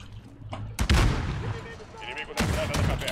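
Shotgun blasts in Call of Duty: Modern Warfare come as two heavy booming shots about a second and a half apart, each followed by a rumbling tail, with quieter game sounds between them.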